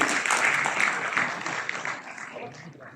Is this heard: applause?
yes